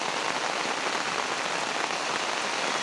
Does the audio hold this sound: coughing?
no